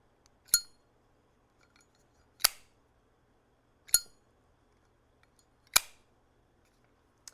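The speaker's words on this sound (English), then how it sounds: "So here's what a regular Zippo ping sounds like." Four bright metallic pings from a regular Zippo lighter lid, evenly spaced about one and a half seconds apart, each ringing briefly before fading into near silence.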